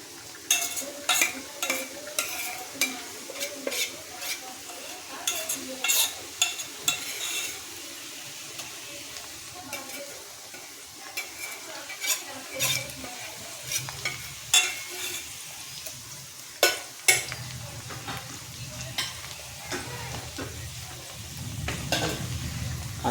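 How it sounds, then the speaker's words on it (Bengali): Ginger-garlic paste and browned onions frying in a pan for chicken pata, with a continuous sizzle broken by frequent sharp scrapes and clinks of a spoon against the metal. "আদা রসুনের পেস্টটা দেওয়ার পরে ভালো করে একটু নাড়াচাড়া করে নিতে হবে, কষিয়ে নিতে হবে"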